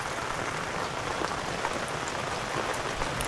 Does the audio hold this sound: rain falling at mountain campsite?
yes